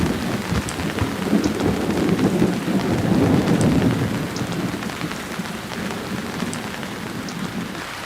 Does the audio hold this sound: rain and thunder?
yes